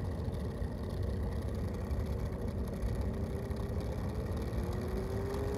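A 3D-printed model of a Chrysler siren runs its motor at a steady drone that sounds like an engine, with a faint tone slowly rising in pitch as it speeds up; the sound is continuous and close, and no one talks.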